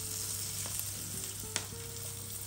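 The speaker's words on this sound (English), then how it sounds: "I'm gonna fry this for about 4 minutes on each side until it chars." Cabbage wedge frying and charring in a hot pan, a steady close sizzle holding level throughout, with a couple of faint clicks or taps over the frying.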